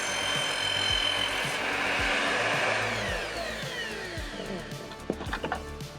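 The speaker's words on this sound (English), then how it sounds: "I had this cardboard mailing tube that was perfect. I just needed to cut it to length first." A power tool cuts through a cardboard mailing tube, giving a loud, continuous rasping whine with rhythmic scraping pulses that fade, followed by a few sharp taps and rustles.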